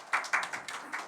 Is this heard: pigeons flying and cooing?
no